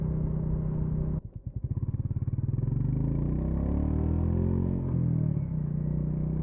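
A Royal Enfield Meteor 350 motorcycle accelerates hard from a brief dip, engine note climbing steadily through first gear with a clear rising whine, then shifting and pulling on, loud and close throughout.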